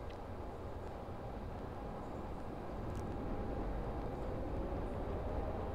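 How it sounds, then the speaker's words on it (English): A subway train passes in the Metro Simulator video game, heard as a steady, loud broadband rumble and rail roar that swells slightly over the last few seconds with no talking. "There goes the other train."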